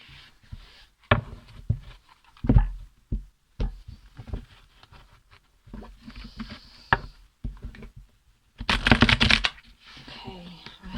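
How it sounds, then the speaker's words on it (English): A tarot card deck is shuffled by hand in short, uneven bursts of riffling and tapping. The bursts are close and fairly quiet with pauses between them, and a louder flurry comes near the end. "I'll do another quick little shuffle on camera"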